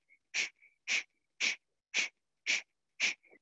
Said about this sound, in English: And now continue that breath through the nose.